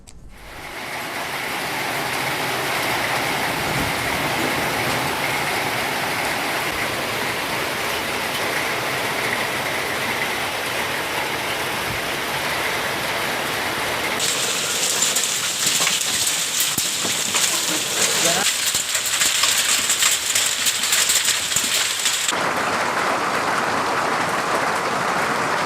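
Heavy unseasonal rain pours down steadily, a dense close hiss of drops drumming on surfaces. It grows sharper and louder in the second half, with no voices.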